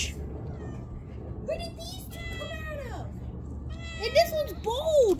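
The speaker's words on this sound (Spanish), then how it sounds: "Mira, le pusimos una cobija al gato y se enojó el gato." An irritated cat under a blanket lets out several drawn-out, wavering meows, growing louder toward the end, while people talk nearby.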